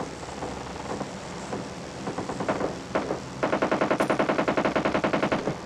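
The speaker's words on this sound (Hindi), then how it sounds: "पर इधर से आती गन शॉट्स की आवाज़" PUBG Mobile Lite gunfire: a few scattered shots, then a rapid, steady burst of automatic fire, loud and close.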